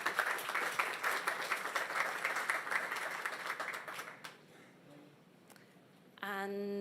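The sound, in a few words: audience round of applause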